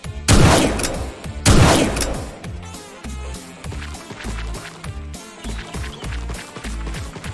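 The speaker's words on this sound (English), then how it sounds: "now we can move around with a shotgun" A shotgun fires in a homemade video game: two loud, separate blasts close together near the start, followed by quieter clattering and in-game movement sounds.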